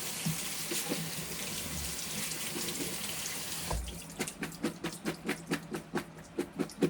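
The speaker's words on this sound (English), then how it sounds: "And then just going to do a quick rinse. Get some of that foam off." Tap water running into a sink while foam is rinsed off a pan, a steady close splashing stream that turns into rhythmic swishing pulses as the pan is moved under the flow, with no talk.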